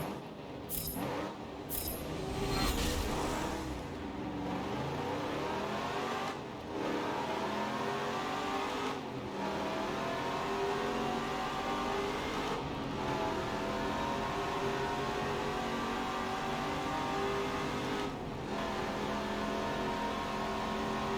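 Race car engines in Forza Motorsport 7 drone and whine steadily at moderate distance, holding a continuous layered pitch with a few brief dips in level, and no talk over them.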